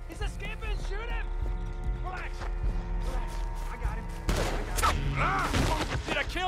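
Gunfire in Red Dead Redemption 2 rings out as a few booming shots and a rattling volley amid galloping hooves and swelling music, with characters talking over the action.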